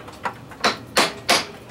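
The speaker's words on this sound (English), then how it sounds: "Just use this little hammer here. And then we'll just kind of give it a couple little taps" A small hammer taps on a clock mainspring barrel during clock repair, giving four distinct light metallic knocks, evenly spaced and close by, with no talk.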